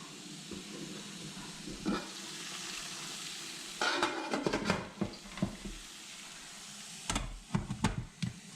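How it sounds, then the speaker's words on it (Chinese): Bao buns are set one by one onto a steamer tray over boiling water, with soft clatters and taps over a steady hiss of steam. "水开了，把包子放在屉上"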